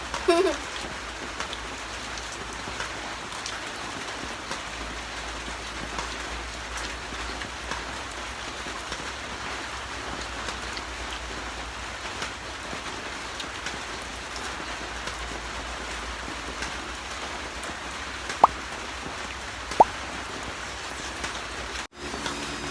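Light rain falls steadily on a roof as a soft, continuous wash of patter, with a couple of brief sharper knocks near the end.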